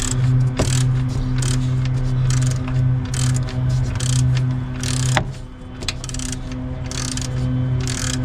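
A loud ratchet clicks away in short bursts of pawl ticks while tightening the drive belt tensioner bolt on a 2002 Toyota Tacoma 2.7L, close up, with a steady low mechanical hum underneath and no talking.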